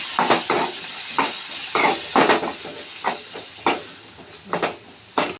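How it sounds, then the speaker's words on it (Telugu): Tomatoes cook in a pan, with steady sizzling and repeated scraping stirs against the pan, close and fairly loud throughout. "టమాటాలు అయితే మగ్గించుకుంటున్నామండి."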